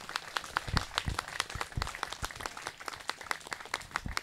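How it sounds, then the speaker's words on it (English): A modest crowd at an outdoor anti-fascist parade claps for a campaigner, distinct individual hand claps overlapping in an uneven patter, sparse enough that single claps stand out. "So a big round of applause for Carl,"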